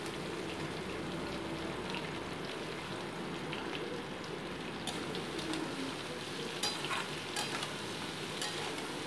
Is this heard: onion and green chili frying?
yes